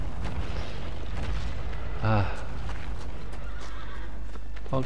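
A horse neighs loudly in the video game Shadow of the Colossus, one short whinny in the middle amid background game sounds and a few soft hoof clops.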